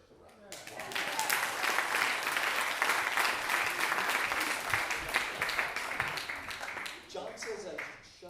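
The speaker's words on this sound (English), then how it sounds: "And I think that deserves a round of applause." Audience round of applause at a live stage show, a dense wash of clapping that swells quickly, holds steady for several seconds, then thins near the end, with voices faintly mixed in.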